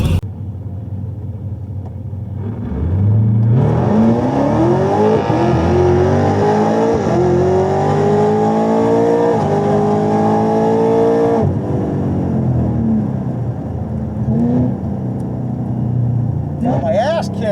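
A car engine in a video game drag race revs hard and climbs steadily in pitch through the gears for several seconds, then drops back to a lower rumble; loud and up front.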